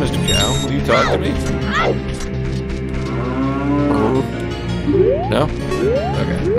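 A cow in the Zelda rom-hack The Missing Link gives repeated drawn-out moos in the game, loud and close, mixed with game background music while someone talks over them.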